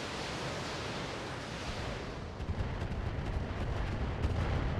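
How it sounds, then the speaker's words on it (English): Mortar or bombard artillery fire in the BattleTech game, a dense rumbling barrage with no voices, growing louder and busier about halfway through. "Those are mortars or something, or bombard"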